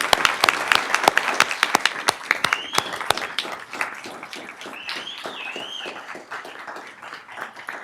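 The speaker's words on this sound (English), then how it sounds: "Let's give them a round of applause." Audience at a school board of education meeting applauding student speakers, sharp individual claps over a broad crowd wash that gradually thins and softens, with brief whistles near the middle.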